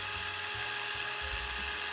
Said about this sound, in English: if I drill a hole here and put like a screw in there, it should just push it forward a bit